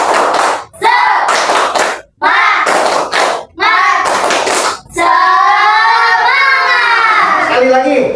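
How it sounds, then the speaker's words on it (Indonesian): A classroom group claps the rhythmic 'tepuk semangat' ice-breaker, bursts of patterned hand claps split by short pauses, then a sustained stretch of shouted voices joining together near the end. "Tepuk semangat."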